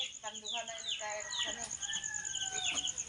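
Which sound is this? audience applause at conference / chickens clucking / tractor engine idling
chickens clucking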